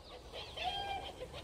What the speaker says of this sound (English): Wait a second, it's Melicamp the chicken.